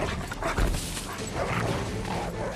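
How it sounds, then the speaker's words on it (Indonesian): Dogs bark and yelp through a fight scene in a military dog film, the barking dense and continuous over a busy soundtrack, with no clear gaps between the cries. "dua ekor anjing gangster mendengar Max menggonggong dan mulai berlari ke arah mereka"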